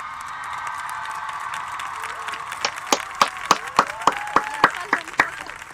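An audience applauds the singer, a soft murmur swelling into loud, steady claps that come in a regular rhythm near the end, with some cheering.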